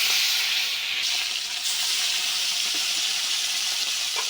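A bata fish fries in hot oil in a heated kadai, making a loud, steady, even hiss with no pauses.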